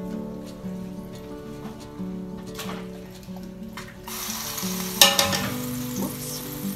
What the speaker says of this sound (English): now I'm going to put my roast back in